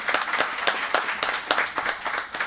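A crowd at an International Women's Day awards ceremony in St. Kitts applauds a band with a dense patter of many hands clapping, moderately loud and continuous through the short burst.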